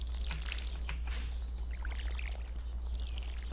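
Watering crops with a watering can in the farming game Stardew Valley: a steady splashing pour of water over soil, continuous and fairly close, with faint bird chirps in the background.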